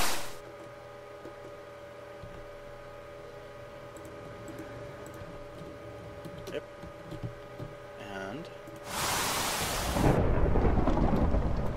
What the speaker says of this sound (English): I haven't messed with lightning in a while.